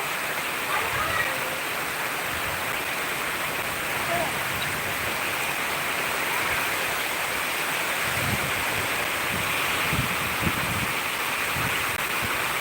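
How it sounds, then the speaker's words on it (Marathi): Heavy monsoon downpour roaring steadily and close, with a dense, even hiss throughout, while people talk and call out over it. "कसला पाऊस येतोय खूप मोठा पाऊस आहे"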